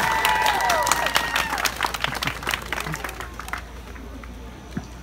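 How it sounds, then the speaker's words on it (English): Applause and some cheering rise from the audience at a comic con cosplay awards, scattered claps loud at first, thinning to sparse claps over a few seconds. "Let's give her another huge round of applause."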